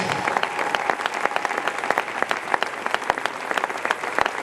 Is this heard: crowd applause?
yes